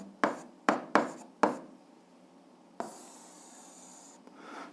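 An algebra equation written by hand: four quick pen or chalk strokes in a row, then a longer rubbing stroke, close and quiet with no voices.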